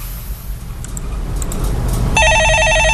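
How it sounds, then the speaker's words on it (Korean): An office telephone starts ringing with a steady electronic trill near the end, loud and close, after a couple of seconds of broadcast-studio background hum. "전화 받아보겠습니다."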